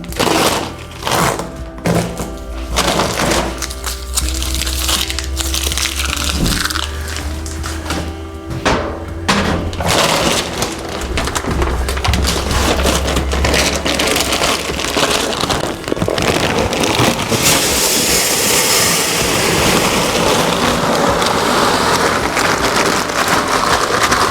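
A 40-pound bag of poultry feed pellets pours into a feeder in a long, steady rattling rush, pellets pattering and hissing continuously without pause, fairly loud and close.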